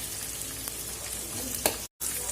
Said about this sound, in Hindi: इसी तरह से थोड़ा थोड़ा डालकर हम फ्राई करते रहेंगे।